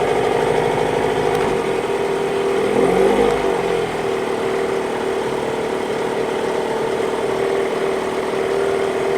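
A boat's engine idling in forward gear at its lowest revs, a steady mid-pitched running drone with a faint shift in tone partway through, close by and with no talk.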